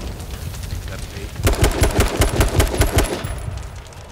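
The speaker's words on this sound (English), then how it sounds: "I'm just emptying the AK. Or the AR." Rapid automatic fire from an AK or AR rifle in the video game H1Z1 King of the Kill, a loud close burst of evenly spaced shots lasting about two seconds after a quieter start.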